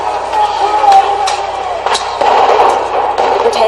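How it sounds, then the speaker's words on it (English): Fireworks set off by protesters during street clashes, sharp bangs and cracks popping irregularly over a loud, chaotic crowd roar with voices in the background. "protesters here are fighting back, attempting to defend themselves with fireworks"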